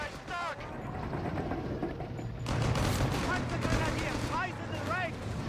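Tank and gun fire in the real-time strategy game Company of Heroes 3, with bursts of gunfire and booming shots during a battle between a Hellcat and a StuG, under a commentator's talk.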